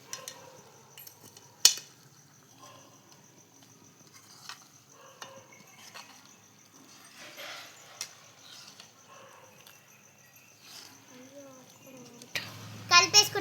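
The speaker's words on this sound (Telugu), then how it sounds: "మంచిగా కలుపుకోవాలి ఫ్రెండ్స్." Egg tomato curry with chilli powder being stirred in a pan, a utensil scraping and clinking steadily with soft sizzling, a sharp knock partway through and louder clatter at the end, with some talking alongside.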